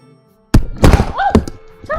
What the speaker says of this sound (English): Sorry, I knocked the microphone.